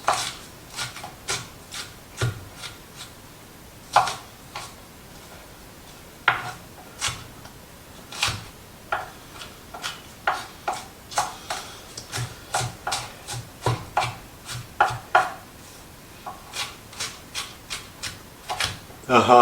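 Cilantro being minced with a knife for mango salsa pork tacos, irregular knife taps and scrapes on a board, moderately loud, with someone talking throughout.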